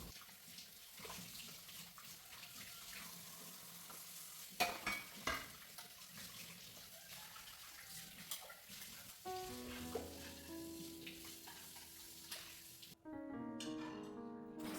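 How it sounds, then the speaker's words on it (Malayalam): Dishes being washed at a home kitchen sink: running tap water hisses steadily under scattered clinks and knocks of utensils, with the flow shifting and growing fuller toward the end. "അപ്പോൾ പാത്രങ്ങളൊക്കെ കഴുകി വയ്ക്കട്ടെ"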